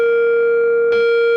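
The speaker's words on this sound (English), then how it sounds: "dark distortion," Electric guitar played through a Hologram Chroma Console multi-effects pedal on a dark distortion setting, a loud sustained buzzing note that is cut off sharply near the end, with no talking.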